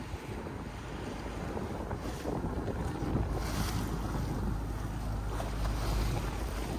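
Steady wind roars over a sailboat heading north on the Sea of Cortez, with about 15 knots blowing from the south, mixed with rushing water against the hull and buffeting on the microphone, continuous and fairly loud throughout.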